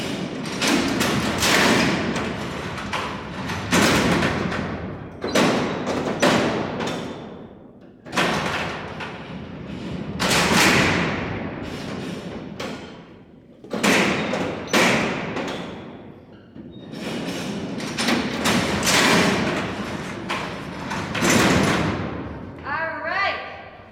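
Heavy cell doors at Alcatraz prison slide and slam shut, over and over: a series of loud metallic clanks and rolling thuds with short gaps between them, booming and echoing through a large hard-walled cellblock.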